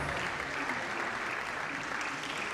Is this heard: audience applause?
yes